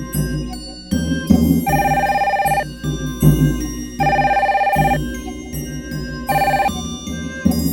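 An electronic telephone ringtone in a 2D animated series chimes in repeated bursts, loud and close, with short pauses between rings and a steady looping pattern.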